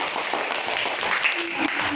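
Students applauding together in a classroom, a brief burst of close, dense clapping with a voice briefly heard under it.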